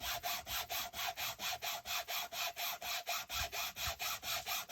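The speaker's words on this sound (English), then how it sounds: "This is just a little sanding thing that I got on Amazon" A glossy playing card is roughed up with a small handheld sanding tool, giving fast, even back-and-forth rasping strokes, about four or five per second, close and steady throughout.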